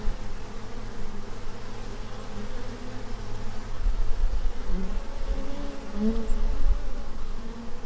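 Bees buzz steadily in a continuous, close, droning hum that swells slightly louder toward the end, with no talking.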